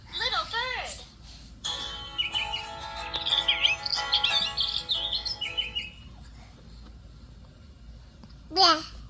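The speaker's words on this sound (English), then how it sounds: "And a bird. Little bird!" A small bird chirps and tweets in quick bright bursts, heard close and clear, while a child babbles over parts of the calls.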